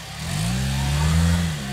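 A Saturn car engine revs up near a dirt tire jump, a loud droning tone that swells and holds for a moment before easing slightly.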